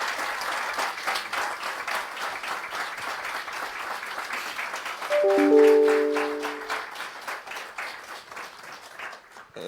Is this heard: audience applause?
yes